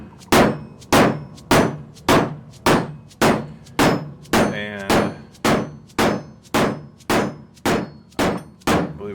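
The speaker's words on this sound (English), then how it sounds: "I'm going to use this real dead low hammer with a light touch here" Dead blow hammer tapping a seal driver to seat a transmission seal on a Mopar A-523 rebuild: sixteen evenly spaced, close, solid thuds at a steady rhythm, each ringing briefly.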